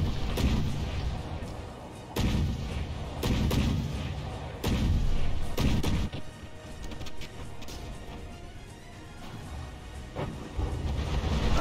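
APS naval guns fire in a From the Depths battleship fight, heavy booming shots and impacts landing in irregular bursts over a constant rumbling battle din.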